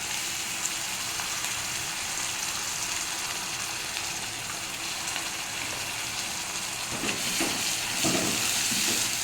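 Tomato puree with chopped garlic sizzling in a pan for chana masala, a steady fine crackle and hiss with occasional stirring scrapes near the end, no voices.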